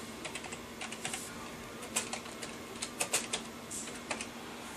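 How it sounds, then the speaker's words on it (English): Fingers tap on a computer keyboard in quick, uneven bursts of close, crisp clicks that rise and fall as words are entered, with no talking. "And I'm typing that up right now."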